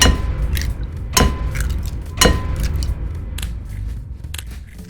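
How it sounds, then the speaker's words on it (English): Eggs cracked one by one against a bowl for a frittata: three sharp, close taps about a second apart, followed by quieter clicks and shell sounds with no talk. "crack the eggs."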